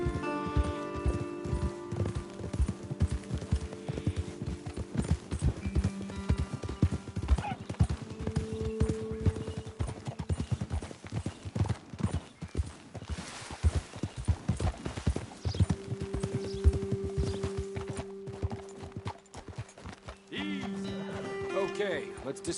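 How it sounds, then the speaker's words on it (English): Horses in the western video game Red Dead Redemption clip-clop at a walking pace on a trail, steady hoofbeats close by with an occasional whinny, while voices talk over them. "Best leave the horses back a bit."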